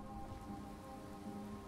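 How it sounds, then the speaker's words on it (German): Heavy rain hisses steadily and loudly in Skyrim, a constant dense patter of drops on surfaces with no voices over it. "Boah, dieser Regen, ist es laut."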